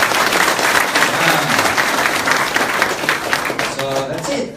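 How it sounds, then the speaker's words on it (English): A crowd at a product demonstration and marketing event breaks into a big, loud round of applause, a thick, continuous wash of clapping that tapers slightly at the end, with some voices mixed in. "big round of applause?"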